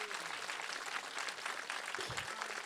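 An audience at a Japanese film stage greeting claps for the director Nobuhiko Obayashi and the cast, a soft, distant, continuous patter of many hands with a faint voice briefly over it.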